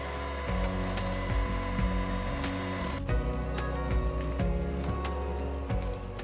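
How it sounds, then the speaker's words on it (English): An electric mixer whips 300 grams of heavy cream with 80 grams of powdered sugar, giving a steady motorized whir with faint rattling. It runs close and continuously, with no voices. "whisk 300 grams of heavy cream and 80 grams of powdered"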